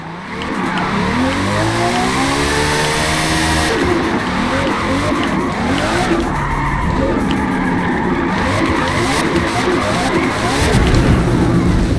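In Forza Motorsport, a TVR Griffith slides through a long drift, its tyres squealing and skidding loudly over a steady, close engine roar. The drift runs unbroken for the whole stretch, with no voices.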